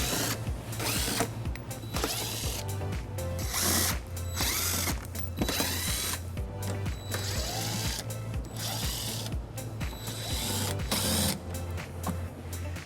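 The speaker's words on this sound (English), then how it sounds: "We'll remove those using an 8mm socket." A ratchet with an 8mm socket backs out bumper screws on a 2021 BMW X3, making close, rapid clicking bursts that start and stop repeatedly, with brief pauses between turns.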